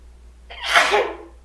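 A single sharp human sneeze bursts out close and loud, rising quickly and fading within about a second, with no other sound around it.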